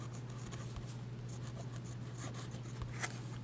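A Hero 616 fountain pen with a fine nib scratches across paper in soft, uneven strokes, faint and close against a low steady hum.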